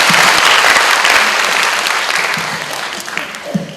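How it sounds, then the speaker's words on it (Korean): Loud applause from a large audience at a university admissions event in Korea, dense steady clapping that gradually thins and fades over a few seconds. "박수로 맞이해 주세요"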